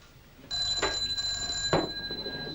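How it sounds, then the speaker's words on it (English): An old telephone bell rings in a 1952 indoor scene, a sustained bright ring starting abruptly and holding steady, with two short louder bursts over it and no talk. "You're wanted on the blower, Sergeant Who"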